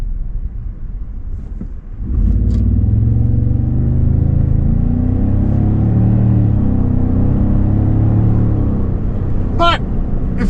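A 2026 Toyota Sequoia Limited Hybrid accelerates in sport mode, its engine swelling into a loud, steady low rumble and drone after a quieter start, heard from inside the cabin with a few brief clicks.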